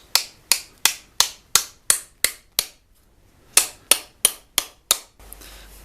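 Sharp metallic hammer strikes drive a wedge into a hatchet handle, ringing out in two rhythmic bursts, eight blows then six, evenly spaced and close by, with a short pause between.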